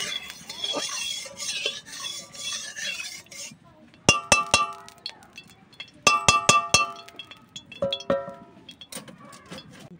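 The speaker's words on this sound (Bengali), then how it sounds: "তেলটা দিয়ে খুন্তি দিয়ে একটু নেড়ে নিচ্ছি" A metal spatula stirs oil in a hot wok for a prawn dish. A soft sizzle comes first, then bursts of sharp, ringing metallic clinks and scrapes against the pan, close and fairly loud.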